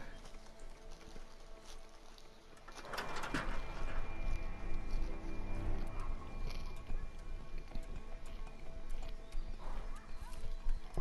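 Horses in the video game A Way Out, with clip-clop hooves and mechanical clanks and ratcheting from about three seconds on, moderately loud against a busy game backdrop.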